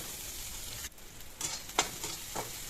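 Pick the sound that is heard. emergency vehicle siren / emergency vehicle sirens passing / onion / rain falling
onion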